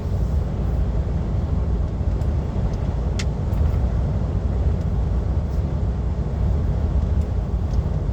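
Wind rushing past a truck cab, heard from inside while driving: a steady, broad low roar mixed with road and engine rumble, continuous throughout with a few faint clicks.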